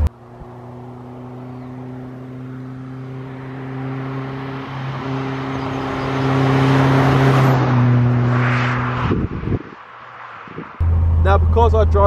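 A Caterham Super Seven 2000, a lightweight open sports car of about 580 kg, drones steadily as it drives and builds in pitch and loudness before a shift and a fresh, louder pull near the end.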